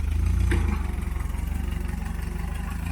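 A tractor engine works while plowing a tough, weedy field, giving a steady, loud, pulsing mechanical thrum with a brief rise early on and no talk over it.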